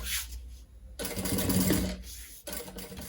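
Sewing machine running in short bursts while stitching a curved seam on a crossbody bag, pausing between runs, then a brief reverse backstitch at the end; steady motor hum and rapid needle clatter, close and fairly loud.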